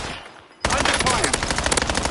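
Rapid automatic gunfire bursts out loud and dense after a brief quiet lull, sustained bursts of shots from a Call of Duty: Warzone match, with battle noise filling the rest.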